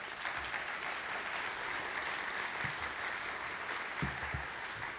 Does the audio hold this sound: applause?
yes